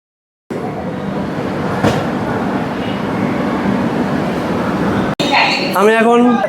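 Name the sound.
railway station platform, train to Puri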